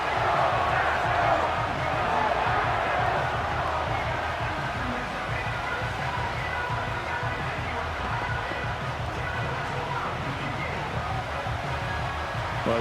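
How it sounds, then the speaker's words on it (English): Stadium crowd roar from the Madden NFL 25 football game during a late-game NFC Championship moment with Washington, a steady dense wall of rumbling noise that holds loud and unbroken for the whole stretch. "this crowd is making an impact right now"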